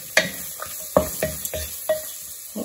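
Ginger cooks in hot oil in a pan for a goat-meat dish, giving a constant low sizzle broken by about eight sharp scrapes and clinks of a utensil stirring at a quick, uneven pace.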